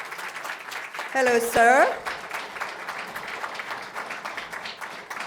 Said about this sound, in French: d'accueillir le réalisateur Anthony Russo, qu'on applaudit bien fort